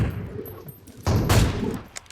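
Bursts of gunfire in a shooting video game, a loud sustained volley in the second half after quieter rattling, with no talking during the shots.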